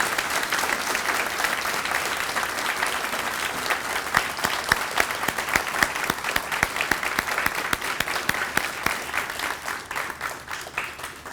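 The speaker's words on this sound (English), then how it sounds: "Can we give the 5th grade committee a big round of applause?" A school moving-up ceremony audience applauds a fifth grade committee, with long, full, sustained clapping and crisp individual claps standing out, easing slightly toward the end.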